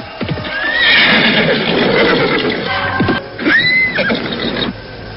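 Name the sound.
horse hooves galloping and neighing, radio drama effect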